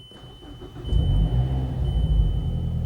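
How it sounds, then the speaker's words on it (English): A Mazdaspeed3, fitted with a new high-pressure fuel pump and intake, cranks and catches, then settles into a steady, close idle with a low rumble and no talking. "Let's try to get the car started."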